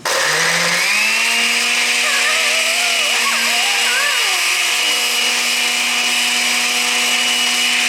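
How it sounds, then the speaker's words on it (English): A kitchen blender whirring through Dole Whip ingredients, a loud steady motor drone that ramps up at the start and then holds constant with slight pitch wobbles as the blades churn. "Now to start this blending machine. And this might be loud, so cover your ears."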